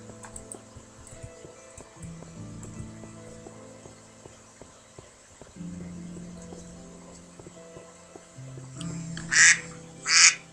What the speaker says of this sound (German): Ah ja, die Ente meldet sich.